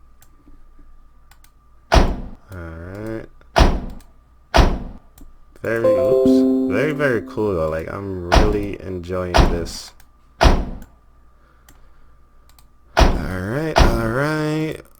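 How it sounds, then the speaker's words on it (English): Fire truck compartment doors in the EmergeNYC video game shut one after another, giving a series of loud, hollow thunks spaced a second or two apart, with someone talking between and over some of them. "So let's close up the truck. Make sure everything is closed."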